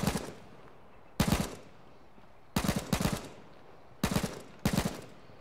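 Gunfire in the survival game H1Z1: five short, sharp automatic bursts, each a quick rattle of several shots, separated by quiet gaps of a second or more.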